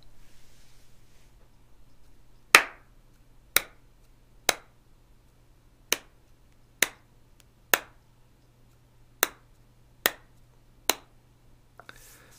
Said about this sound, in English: do the clap test right there on the tight shot.